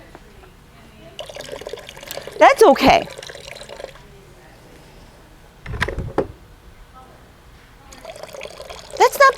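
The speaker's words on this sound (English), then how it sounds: "What I like when I pour my teapots is a nice steady stream of water that's pretty." Water pours from the spout of a handmade ceramic teapot in short splashing bursts between pauses, while a person talks over it.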